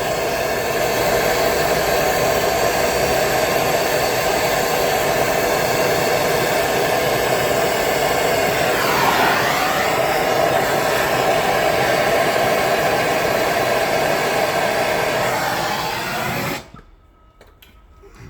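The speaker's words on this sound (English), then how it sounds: "So I'll just put a bit of heat in there, hopefully that'll help that come undone." A heat gun blows steadily for a long stretch while heating a seized nut on a Volkswagen Crafter rack end, a constant whirring hiss close by that cuts off abruptly near the end, leaving quiet.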